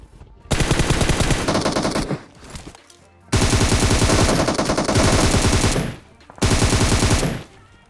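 M416 rifle firing in PUBG Mobile: three loud, sustained bursts of rapid automatic fire, separated by short pauses, close and dominant throughout.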